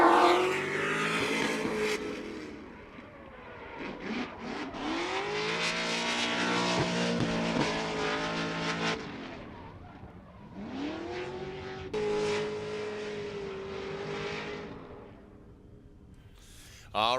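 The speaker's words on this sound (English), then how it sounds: "Lay back and listen, making sure his car is up to snuff," A Formula Drift PROSPEC competition car ripping through a seeding run in Utah, its engine screaming and revving up and down in long sweeping pulls, loud and close, with brief lifts between bursts and a commentator talking over parts of it.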